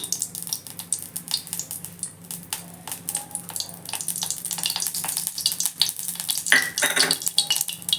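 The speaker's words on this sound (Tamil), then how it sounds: "இப்போ கடாய் சூடு ஏறிடுச்சு. அதில் நெய் சேர்த்துக்கலாம்." Ghee heating in a hot kadai while cooking rice button sweet corn gravy, a close, crackly sizzle of fine popping bursts growing busier over several seconds, with no speech.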